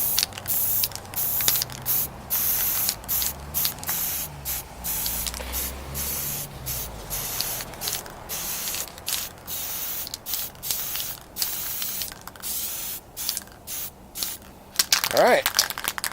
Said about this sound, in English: give them a spray paint of primer black to represent the shadows